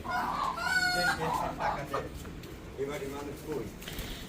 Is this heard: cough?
no